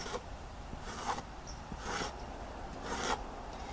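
A seashell scrapes along a yucca leaf to strip its soft plant material, quiet rasping strokes repeating in a loose rhythm about once a second, close and alone.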